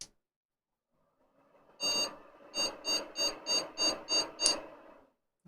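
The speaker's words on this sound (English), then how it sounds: "That's a no video card beep." A computer's POST speaker sounds a no-video-card error: a run of about eight evenly spaced, sharp electronic beeps that fills the quiet room.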